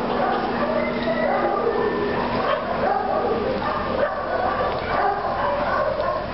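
Many dogs bark, yip and whimper continuously in the front kennels of an animal shelter, a dense, loud chorus of overlapping barks echoing through the run.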